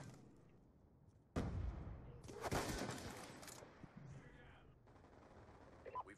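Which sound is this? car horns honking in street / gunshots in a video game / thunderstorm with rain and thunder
gunshots in a video game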